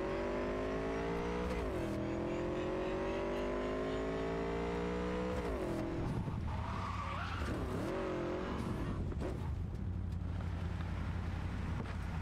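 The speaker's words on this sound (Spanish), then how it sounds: "Esto driftea muchísimo más que el coche ese pequeñito." Akira's motorcycle in Cyberpunk 2077 drifting through sliding turns, a loud, steady engine drone with repeated rising tire squeals and skids, alone with no voices.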